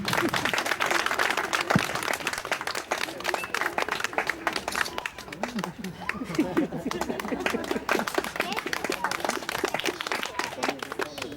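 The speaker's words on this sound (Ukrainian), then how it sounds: "Шановні гучні оплески." An audience at a children's creative studio event claps in sustained applause, the dense clapping mixed with crowd chatter and a few voices throughout.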